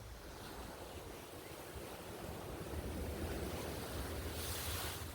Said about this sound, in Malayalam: ഇവിടെ നിന്ന് നോക്കിയാൽ തന്നെ നമുക്ക് തിരമാലയുടെ കറക്റ്റ് ശക്തി മനസ്സിലാക്കുവാൻ സാധിക്കുന്നുണ്ട്